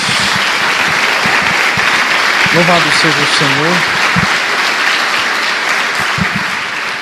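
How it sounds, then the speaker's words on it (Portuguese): A church congregation claps steadily and loudly throughout a worship service, with a preacher's voice speaking over the dense applause. "Dê uma salva de palmas a Jesus."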